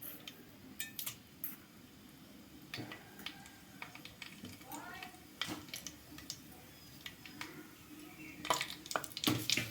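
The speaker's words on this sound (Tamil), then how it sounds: "கடுகு நல்லா வெடிக்கட்டும்." Scattered sharp pops and crackles over a low sizzle, irregular and close, like small seeds spitting in hot oil, with faint clatter at times.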